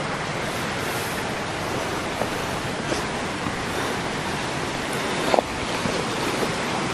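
A fairly strong river stream flows across a mountain hiking trail on Gunung Salak: an even, steady rushing wash of water with a few faint clicks, no voices.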